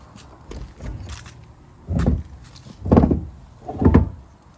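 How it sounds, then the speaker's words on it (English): The stiff door of a 1954 Ford Country Sedan wagon is worked open in three heavy, creaking surges about a second apart, close and fairly loud, with faint shuffling in between. "Door's a little stiff."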